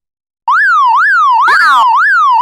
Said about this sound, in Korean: 그때 멀리서 요란한 사이렌 소리가 들려옵니다.